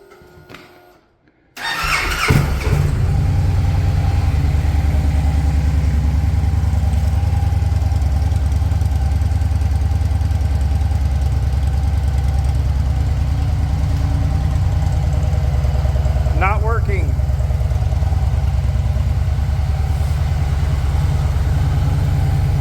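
A 2016 Victory Cross Country Tour motorcycle with a stage 1 exhaust cranks and catches after a brief quiet moment, then settles into a steady, deep, even idle that runs on loudly and close by.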